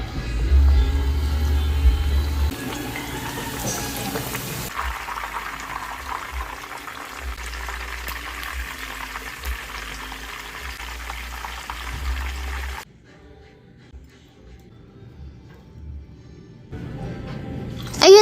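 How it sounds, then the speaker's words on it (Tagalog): A breaded pork chop sizzles in a pan of plenty of hot oil, a steady crackling hiss that runs for most of the stretch, drops quieter for a few seconds, then swells back up at the end. "paano kayo nagluluto ng fried pork chop?"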